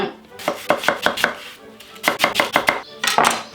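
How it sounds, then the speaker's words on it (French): A knife chops onion into large cubes on a cutting board for veal blanquette: two bursts of quick, close, crisp chops with a short pause between them, then a final heavier knock. "on coupe en gros morceaux. Comme ça. Tourne en gros cubes."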